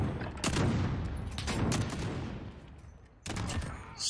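Rapid bursts of automatic gunfire from Call of Duty Modern Warfare 2019 multiplayer come in three loud volleys with short pauses between them, close and punchy.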